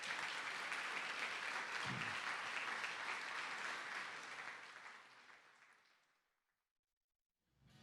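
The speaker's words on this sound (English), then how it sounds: "Let's hear one more round of applause for all of our inductees." Loud sustained applause from a crowd honoring inductees at a high school football game, gradually fading away into silence, then a soft sound returns at the very end.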